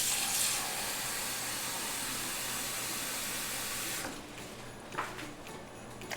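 Water pours steadily from above into masa flour (Maseca) in a pot for champurrado, a loud, even hissing splash that stops after about four seconds, followed by faint kitchen clinks and movement.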